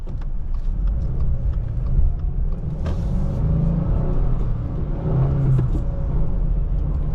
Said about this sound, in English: we are heading out of the dealership in this 2023 Crosstrek Premium with the 6-speed manual transmission